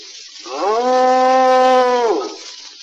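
A drawn-out bovine moo rises, holds a steady tone and falls away, loud and clear against a thin background. It sounds like a voice imitating a thin old cow on an old 1921 recording.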